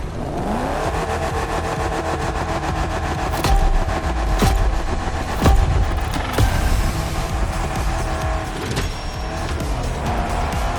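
A drift car in The Crew Motorfest roars loudly and steadily at high revs, its engine droning without a break while the tires squeal and scrub in long slides and a few sharp bumps cut through.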